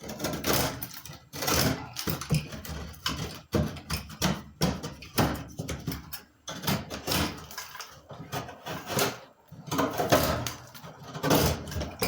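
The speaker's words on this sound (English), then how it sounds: "Add some screws, tighten it up." Screw gun driving screws into drywall during a water-damage repair, with repeated bursts of whirring motor and grinding as each screw sinks in, close by, separated by short pauses and handling noise.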